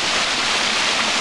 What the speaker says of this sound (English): Right now, we're viewing the waterfall.